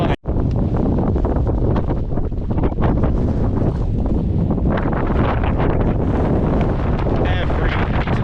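Fierce wind roars across a Welsh mountain summit, pounding the microphone with loud, continuous low buffeting, and someone speaks faintly beneath the gusts.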